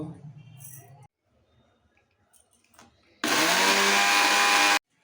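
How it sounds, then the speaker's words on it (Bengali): A mixer grinder roars in one loud, steady burst of about a second and a half, pulverising dried rice into flour for kheer patisapta pitha, after a stretch of speech and quiet. "এবার গুঁড়িটা মিক্সিতে করে নেব"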